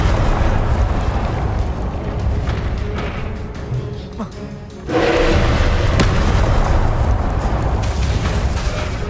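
Loud fiery blasts from the Confringo spell in the Hogwarts Legacy video game, layered with dense game combat noise; after a brief dip the sound surges into a sustained roaring wash of explosions.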